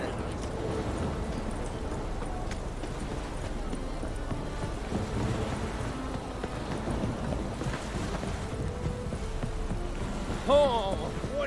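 Steady rain in The Witcher 3 falls as a constant soft hiss, mixed with the faint clip-clop of horse hooves and a voice speaking in the background.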